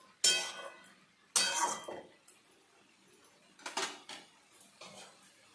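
A lid goes onto a cooking pot of vegetarian ash gourd ghonto on the stove, making a few sharp metallic clanks and clinks up close, spaced apart with quiet stretches between them.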